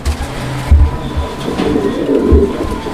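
A pair of fancy pigeons coos softly nearby, producing low, repeated rolling coos in short bursts over a steady hum of background noise, with no talking.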